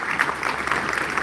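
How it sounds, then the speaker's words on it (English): An audience claps steadily through a brief stretch at a live AI talk with Amazon's AWS CEO, a dense, even wash of applause with no voices over it. "Ladies and gentlemen, please give them another round of applause"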